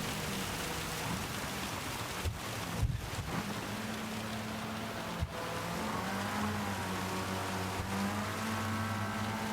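Steady rain hisses loudly and constantly over the low drone of a front-wheel-drive car engine shifting pitch in a racing video game, with no voices.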